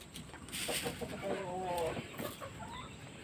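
Hens cluck in a close, busy jumble at a coop with laying nests, with short repeated calls and a brief higher squawk over steady background noise.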